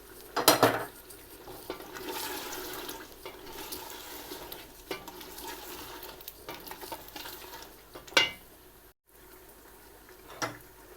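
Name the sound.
potatoes frying with ground coriander and cumin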